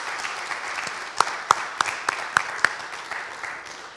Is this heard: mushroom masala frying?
no